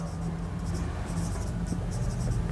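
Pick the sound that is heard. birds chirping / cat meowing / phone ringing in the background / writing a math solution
writing a math solution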